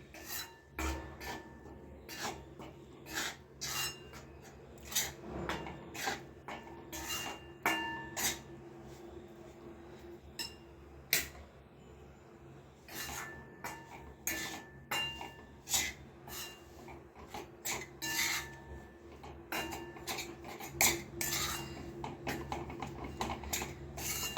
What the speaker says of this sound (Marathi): आपण आता हे व्यवस्थित मिक्स करून घेणार आहे याच्यामध्ये.